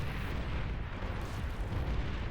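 Commander D-gun blasts and tank fire in a Beyond All Reason 1v1 battle on the High Noon map form a dense, continuous roar of booming explosions and rumbling gunfire with no pauses and no voices.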